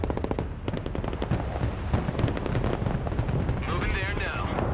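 Mobile artillery in the game Broken Arrow fires rapidly, a dense run of sharp booming shots and crackling bursts over a rumbling battle background, with a radio-style voice talking over part of it.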